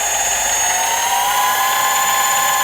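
A mini lathe driven by a converted brushless motor runs at speed, a loud steady high-pitched whine with constant tonal hum and no change in pitch, no voices.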